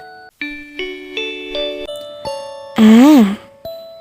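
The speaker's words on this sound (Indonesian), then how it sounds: "Suara bel berdering menandakan waktunya untuk belajar" A series of clear chiming school bell tones, stepping up one after another, followed by a louder wavering electronic tone; a bright, close ringing signal.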